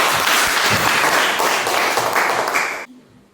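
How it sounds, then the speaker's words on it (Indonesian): Elementary school classroom children clap for their classmates, a loud, close burst of mixed hand claps that runs steadily and then cuts off abruptly near the end. "Tepuk tangan buat teman-teman."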